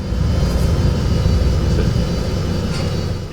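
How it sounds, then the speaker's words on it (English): A civilian helicopter in the video game Just Cause 2 drones with a loud, continuous engine roar and rotor rumble, steady throughout and close by, with no talking. "Oh wait, there's a helicopter."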